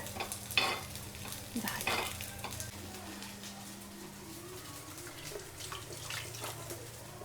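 Fasting vadas frying in a little oil in an appe pan, a steady soft sizzle with scattered crackles and utensil stirring clicks, close and fairly quiet, with a low hum underneath.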